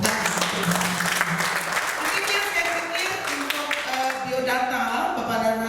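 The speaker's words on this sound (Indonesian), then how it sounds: "tepuk tangan." Audience applause at a formal Indonesian event, steady dense clapping that fills the room throughout, with voices talking over it.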